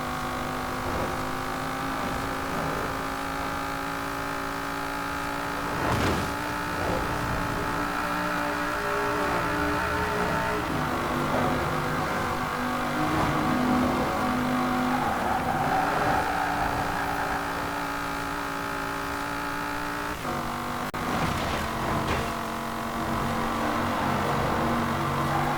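A 1965 Pontiac GTO engine howls at top speed in Forza Horizon 4, a loud, steady drone of sustained high revs with little change and a brief dip near the end.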